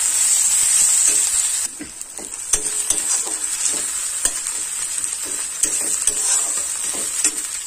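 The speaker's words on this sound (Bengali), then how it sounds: "মশলা ভালোভাবে কষাই করে" Spice paste with garlic, ginger and chopped green chilli frying in a pan in a village kitchen, loud steady sizzle with repeated stirring clicks and scrapes of a spoon against the pan.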